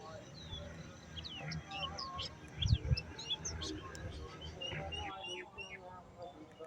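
Birds chirp and call in a tree by a riverbank on the Gumti river char, many short tweets and trills at moderate distance, with a soft low thump midway and light background noise.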